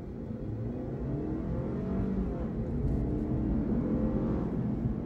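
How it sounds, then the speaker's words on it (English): Launch acceleration in a Lexus IS300 F Sport, heard from inside as a steady, fairly loud engine drone rising in pitch through the revs for the whole stretch, with no voice over it. "I'm gonna do a quick launch in this car, see how many G's I can get."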